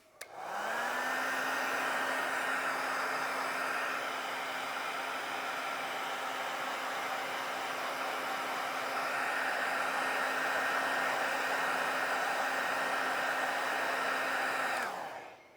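A hair dryer blowing on scratched leather runs continuously for about fifteen seconds, a loud steady whoosh with a constant motor whine that switches on and winds down at the end, no speech.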